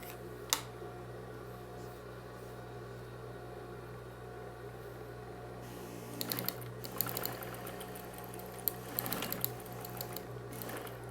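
Sewing machine stitching along the edge of a bathroom set, quiet hum for a few seconds then a rapid mechanical needle clatter starting midway, near and moderately loud, with no voices.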